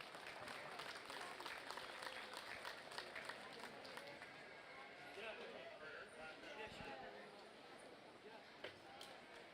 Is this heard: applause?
yes